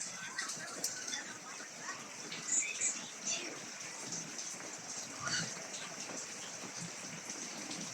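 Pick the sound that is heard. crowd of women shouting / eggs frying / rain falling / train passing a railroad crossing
rain falling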